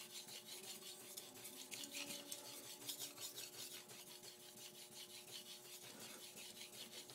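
A Wusthof kitchen knife is drawn across a wet whetstone in steady, even strokes, a soft continuous gritty scraping rhythm heard close and alone.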